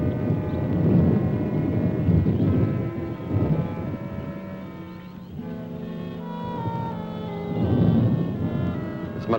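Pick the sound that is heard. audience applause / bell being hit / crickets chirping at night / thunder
thunder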